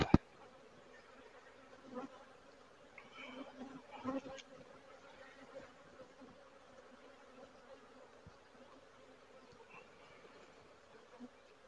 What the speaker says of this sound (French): Et les abeilles dans la bee barn, généralement, sont beaucoup plus dociles.